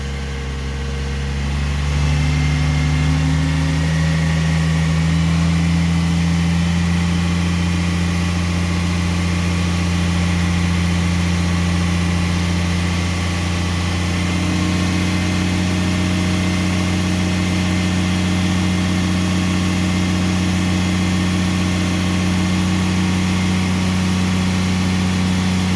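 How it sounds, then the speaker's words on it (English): A truck tractor's diesel engine is raced up to build air pressure for a brake test. Its deep drone climbs in pitch over the first seconds, then holds a loud, steady rumble with a vibrating undertone throughout. "All right, Corey, make sure you race it up, get air pressure, and release the service and emergency brakes"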